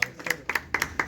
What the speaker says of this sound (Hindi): जोरदार तालियां हो जाए प्लीज।